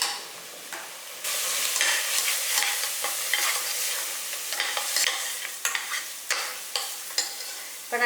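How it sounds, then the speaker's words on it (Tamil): Chicken pieces coated in ground spice powder sauté in a pan for chicken gravy, giving a steady close sizzle broken by repeated scraping stirs, with no talking. "எல்லாம் ஒன்றா சேர்ந்து வதங்கட்டும்"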